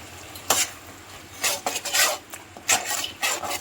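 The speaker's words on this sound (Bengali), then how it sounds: "এবার সব একসঙ্গে ভালো করে আমি নাড়াচাড়া করে নেব" Chili chicken sauce with tomato sauce is stirred in a pan, a spoon scraping and rasping against the metal in short, irregular strokes, close and fairly quiet with a faint sizzle beneath.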